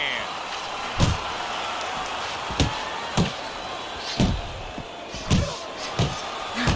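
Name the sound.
boxing punches landing in Fight Night Champion video game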